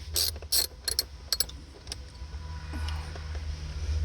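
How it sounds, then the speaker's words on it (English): Screwdriver removing screws from a Pontiac Torrent steering column, a close series of quick ratcheting clicks in short bursts, then quieter handling over a low steady hum. "we're going to take these 3 screws off"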